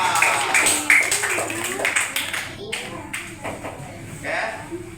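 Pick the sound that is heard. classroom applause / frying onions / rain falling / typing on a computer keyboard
classroom applause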